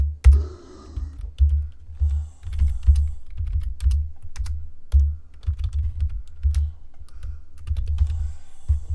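Steady typing on a computer keyboard, with rapid close clicks in an irregular rhythm running for the whole stretch over a low hum.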